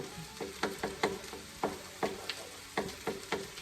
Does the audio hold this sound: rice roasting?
yes